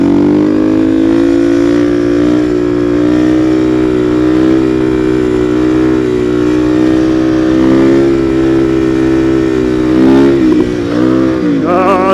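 A supermoto motorcycle engine, freshly serviced with new oil and a clean air filter, drones loud and close while riding, holding a steady buzzing pitch that rises and dips briefly near the end.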